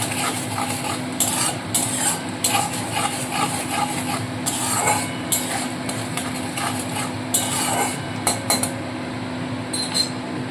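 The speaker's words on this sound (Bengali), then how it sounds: "এবারে পেঁয়াজটা হালকাভাবে ভেজে নিতে হবে" Onion being lightly fried and stirred for a boal fish curry, with repeated scraping and clinking of a spatula against the pan over a low sizzle, in uneven bursts close by.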